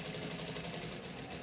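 A sewing machine stitches with silk thread while sewing a double-stitched front placket, running slowly with a steady, continuous mechanical hum and fine buzz, close and moderately quiet with no talk.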